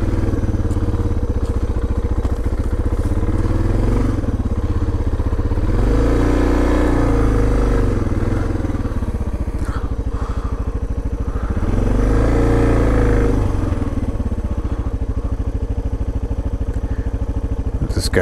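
A motorcycle ridden along a dirt forest road near the Grand Canyon's North Kaibab, engine loud and steady with rising and falling revs and rattling over rough ground throughout.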